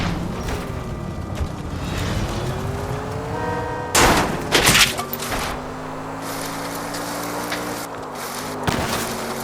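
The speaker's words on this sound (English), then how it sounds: "I'll try to shoot out his tires." Gunfire cracks out in a few sharp bursts in the L.A. Noire video game, shots aimed at the tires of a fleeing car whose engine drones steadily underneath with rising and falling pitch.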